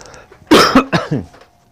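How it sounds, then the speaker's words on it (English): A person coughs in a short, harsh burst of three or four hacks, close and fairly loud, then falls quiet. "Sorry for my coughing."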